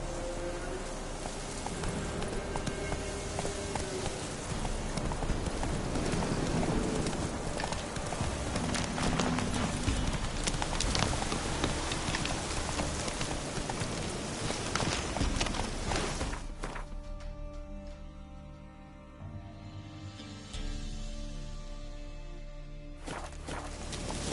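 A horse gallops in The Witcher 3 with steady clip-clopping hoofbeats over a rain-like hiss. The sound thins out and turns quieter near the end.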